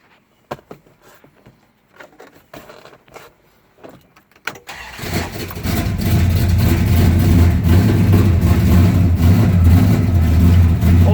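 A numbers-matching 1969 Dodge Coronet Super Bee, with a few clicks and handling noises before the engine cranks and catches, then settles into a loud, steady, close idle that keeps rumbling to the end.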